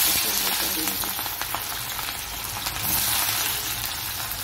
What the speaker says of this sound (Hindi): 6 से 7 चम्मच कढ़ाही में तेल डालूंगी और इसको गर्म करने के बाद प्याज को बघार दूंगी